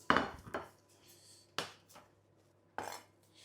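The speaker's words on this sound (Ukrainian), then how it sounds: "Сюди нарізаємо 10 грам укропу" Fresh dill being finely chopped with a knife for a courgette dish, heard as a few sharp close knocks of the blade against the board with quiet gaps and a faint steady hum beneath.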